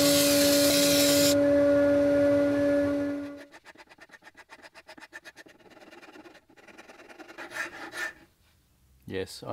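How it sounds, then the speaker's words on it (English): A metal file rasps on a clear resin-cast Lego piece in fast, close, rhythmic strokes after a power tool's hum winds down, with a few scraping pauses. "Yes, I know, it's a metal file, but I just want to take little bits off at a time."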